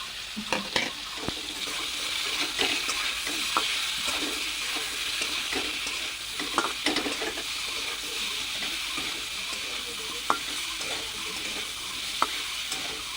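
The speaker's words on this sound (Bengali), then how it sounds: "এবার এটা হালকা একটু নাড়াচাড়া করে নেব" Mango pieces for a chutney fry in a pan under a soft continuous sizzle, punctuated by scattered sharp clicks and scrapes of a utensil stirring them, with no speech.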